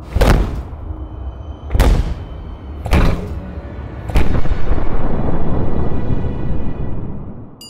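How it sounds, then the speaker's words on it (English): Dust explosions released through a pressure-relief explosion vent on an industrial vessel, heard as four loud, sharp booms about a second apart, each leaving a rumbling roar that swells into a sustained loud rumble near the end. "These pressure relief devices relieve a certain area before the vessel is damaged by the explosion."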